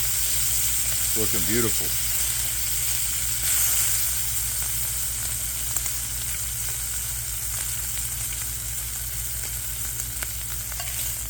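Pork butt bacon frying in a pan, a steady close sizzle and crackle running throughout, with a short spoken remark near the start.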